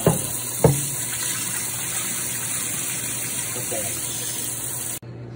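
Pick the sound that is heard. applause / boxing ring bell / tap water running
tap water running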